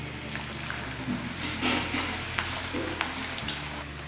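Pakoda batter crumbled by hand into hot oil in a home kitchen, frying with a steady hiss and scattered bubbling crackles, close and moderately loud, with no talk.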